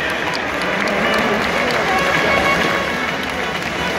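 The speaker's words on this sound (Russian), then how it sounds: "Вот Сэм и Эми аплодируют своим коллегам за сообразительность." Dolphins clap their flippers during a show at the Vladivostok Oceanarium, making a dense, steady patter of slaps mixed with splashy noise that holds at a constant loudness throughout.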